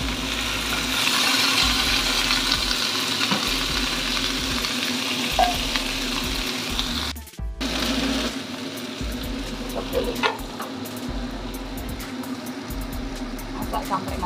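Lettuce and other vegetables stir-fried in a pan with a splash of water give a loud, steady sizzle and crackle that runs throughout, with a brief dip partway through.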